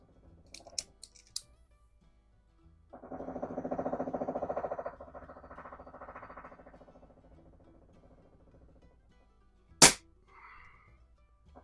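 A single sharp crack from a .177 Pinty Buster PCP air pistol, loud and close, preceded by a few faint clicks and some quiet handling noise.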